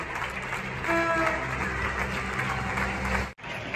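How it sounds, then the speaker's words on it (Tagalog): Neighbours clap from balconies during the Madrid lockdown, a dense steady patter of applause carrying across from nearby buildings for several seconds before cutting off abruptly near the end. "Pumapalakpak po sila mga kamintal."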